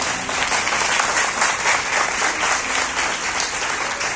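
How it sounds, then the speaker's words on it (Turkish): A hall audience at a poetry group's reading claps loudly on request before the poet takes the stage, dense continuous applause with slight surges, close and full, without speech. "Ben sahneye çıkmadan önce de kuvvetli bir alkış istiyorum"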